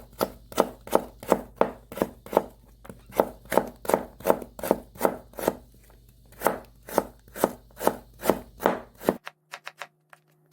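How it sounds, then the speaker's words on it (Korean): A knife julienning radish into thin strips for kimchi on a board strikes about twenty crisp, evenly spaced chops, loud and close. The rhythm then stops, leaving a few faint light taps. "채를 썰어 이렇게."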